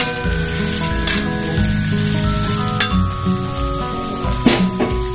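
Crushed shallots, garlic, ginger and lemongrass fry loudly in hot oil for Kelantan-style kerutuk daging, a close, steady sizzle with a low bubbling undertone and a few sharp crackles.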